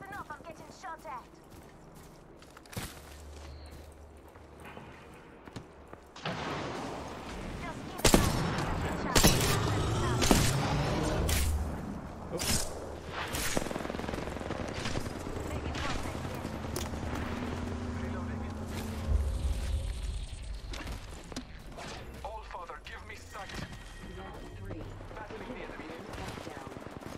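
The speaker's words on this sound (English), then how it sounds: "Listen up, I'm getting shot at." Rapid bursts of automatic gunfire and impacts from an Apex Legends firefight, loud and dense after a quieter start, with repeated volleys and clattering mechanical sounds over ongoing game audio.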